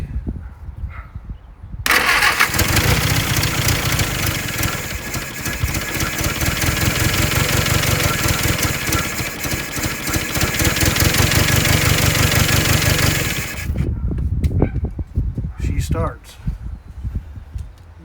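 An old Jeep engine with its timing out of adjustment cranks and catches, then runs loud and rough for about twelve seconds with a steady uneven idle before cutting out, followed by quieter clatter and voices.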